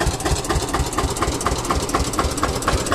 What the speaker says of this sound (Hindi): अपने आप ही ट्रैक्टर चला रहे